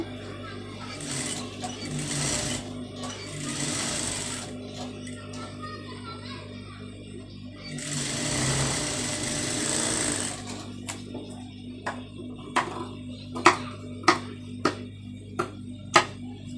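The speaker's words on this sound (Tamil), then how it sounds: "இதில் வந்து இன்னொரு தையல் அப்படியே போட்டுருங்க" A sewing machine stitches a blouse sleeve with a saree border. It runs in two loud whirring bursts separated by a quiet gap, followed by a series of sharp clicks and taps. Faint voices sit in the background.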